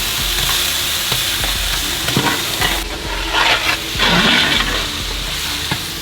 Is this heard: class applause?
no